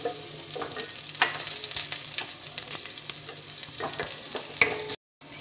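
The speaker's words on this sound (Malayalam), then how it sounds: "വറ്റൽ മുളകെല്ലാം മൂത്ത് വന്നപ്പോൾ ഒരു രണ്ട് മൂന്ന് ചുവന്നുള്ളി വട്ടത്തിൽ അരിഞ്ഞത് ഇതിലേക്ക് ചേർത്ത് കൊടുത്തിട്ടുണ്ട്" Sliced shallots frying in hot oil with dried red chillies produce a dense, continuous crackling sizzle with scattered pops and occasional stirring scrapes, close and steady, then breaking off briefly near the end.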